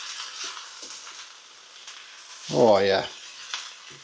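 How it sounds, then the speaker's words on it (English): Cabbage frying in a pan gives a steady, soft sizzling hiss with faint scraping as it is stirred, and a short spoken exclamation cuts in briefly partway through. "So I'm just going to give this a bit of a stir and see what we're working with, see if everything's cooked okay."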